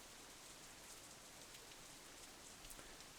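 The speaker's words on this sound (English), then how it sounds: "The rain keeps coming down harder and harder." Steady rain falls in the visual novel Katawa Shoujo, a dense, even hiss of drops pattering on asphalt and surfaces that holds constant throughout, fairly soft and with no voices.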